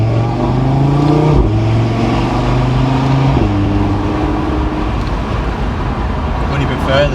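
Audi RS3 engine starts up with a rising rev flare near the car, then drops to a steady idle with a second blip, while people talk in the cabin.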